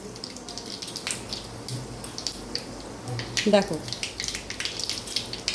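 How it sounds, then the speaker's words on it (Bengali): Dried red chillies and five-spice (panch phoron) crackle and sizzle in hot oil for a village mango dish, a steady frying hiss with small pops under a woman's speech. "দেখো কাঁচা শুকনো লঙ্কা দিচ্ছি ফোড়নে তেলে, একটু পাঁচফোড়ন দিচ্ছি।"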